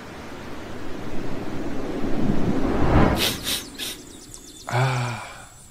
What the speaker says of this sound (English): Hey, Mercedes,